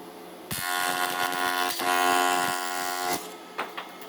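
Metal being welded, a harsh electric buzz with a steady tone that starts abruptly, runs about two and a half seconds with a brief dip, then cuts off, followed by a few short bursts.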